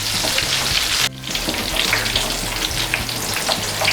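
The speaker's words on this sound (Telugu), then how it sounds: "ఇలా కలుపుకుంటూ లైట్ గోల్డెన్ కలర్ వచ్చేంత వరకు వేయించుకోవాలి." Mirchi bajji, batter-coated chillies, deep-frying in hot oil, with a dense continuous close sizzle and crackle, a brief dip near the start, and occasional low stirring knocks, with no talking.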